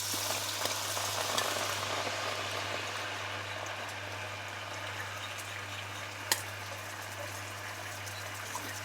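Salmon fries in a pan on full heat with a honey and ginger sauce, giving an even, close sizzle and bubbling hiss throughout, with a single sharp clink near the end.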